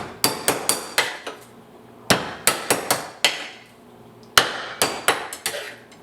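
Sliced food is smashed on a cutting board in three quick bursts of sharp, close knocks, four or five each, separated by brief pauses.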